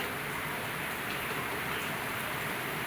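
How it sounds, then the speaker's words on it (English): Steady rain pours down in a dense, even hiss, close and continuous with no voices. "And now it's raining."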